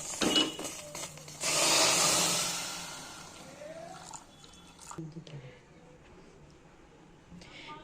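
Water poured into a pressure cooker holding ghugni peas, a brief rushing splash lasting about two seconds between clinks of utensils, with a voice talking around it.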